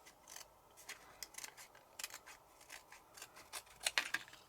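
Small scissors snip delicate chipboard in a run of quick, quiet, close cuts. The clicks come at an irregular pace and grow a little louder toward the end.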